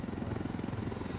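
A helicopter in the video game Ghost Recon Wildlands gives a steady, close rotor thump with fast, even pulses that continue without a break for the whole short stretch.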